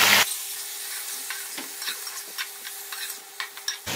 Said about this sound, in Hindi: ऑयल जो है वो अच्छे से हमारा गर्म हो चुका है, अब हम इसके अंदर गोश्त डालेंगे।